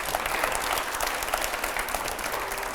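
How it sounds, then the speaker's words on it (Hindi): Loud, sustained applause from a studio audience at a televised political interview event, dense steady clapping filling the whole stretch with no speech over it. "पहले जोरदार तालियां"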